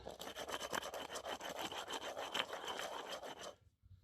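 Rear brake pads from a Subaru Forester are scuffed with rapid, rhythmic rasping strokes, a close back-and-forth scraping that stops abruptly near the end.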